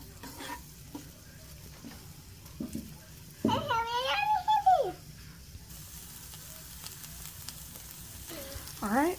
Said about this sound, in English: I'm going to let these saute. Get them nice and coated.